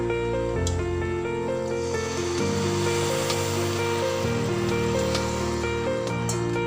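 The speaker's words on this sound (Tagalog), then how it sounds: "ilalagay ko na yung ating pangalawang gata" Second pressing of coconut milk (gata) pours into a pot of Bicol-style laing, a steady watery rush over a sustained tonal background hum.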